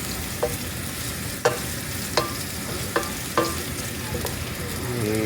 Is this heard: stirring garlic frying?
yes